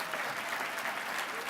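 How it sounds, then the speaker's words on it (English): Audience applause at a formal speech, a short, steady wash of many hands clapping together, heard on its own without voices. "Let's give them a round of applause,"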